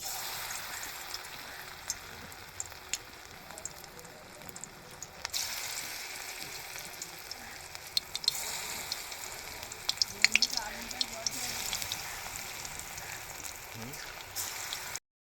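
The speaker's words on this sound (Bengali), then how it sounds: "পরিমাণ মতো সরিষার তেল দিয়ে পোস্তর বড়াগুলো এক এক করে এবারে ছেড়ে দিচ্ছে গরম তেলের মধ্যে" Poppy seed fritters fry in hot mustard oil, making a long, steady close sizzle with scattered pops and crackles and a brief louder burst partway through. No one speaks over it.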